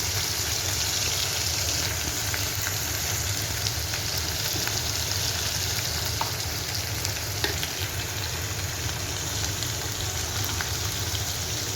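Potatoes frying in a pan for a soybean curry give off a loud, continuous close sizzle that stays even throughout with faint crackles.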